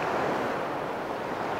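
Sea waves wash steadily onto a Baltic beach at Stegna, a dense, continuous broadband roar of surf, close and loud, with no talking.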